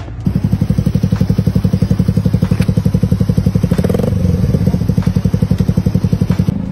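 A Raider 150 Fi motorcycle is ridden during throttle-control practice, its engine close and loud with a fast, even pulsing beat that swells briefly as the throttle opens.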